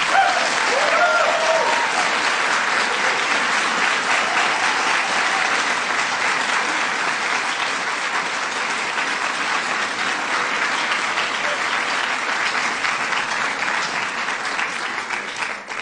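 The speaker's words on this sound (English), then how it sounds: "Give her a big round of applause." A large theater audience at the 2016 Kennedy Center Honors applauds loudly and continuously, dense clapping that holds steady throughout and tapers only slightly at the end.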